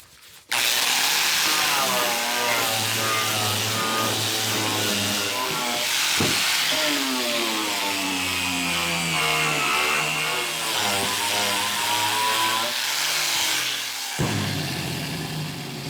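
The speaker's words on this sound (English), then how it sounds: "We're going to take and strip this down to nice fresh metal." A power tool strips paint to bare metal on a 1962 Cadillac Series 60 Fleetwood fender skirt, running with a loud, close, continuous whine that rises and falls in pitch as it bears down, with brief drops near the start and end.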